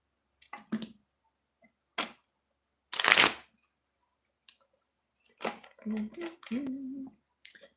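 Oracle cards are shuffled in a few short, crisp riffling bursts separated by pauses, close by, with a brief hum of voice near the end.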